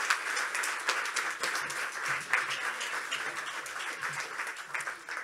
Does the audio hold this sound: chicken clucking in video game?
no